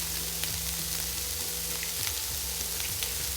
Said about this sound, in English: Chorizo's in the pan.